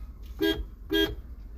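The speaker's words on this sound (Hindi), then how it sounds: "हॉर्न बजाना है, ये देखिए" Two short car horn honks, evenly spaced about half a second apart, loud and close against a low engine rumble.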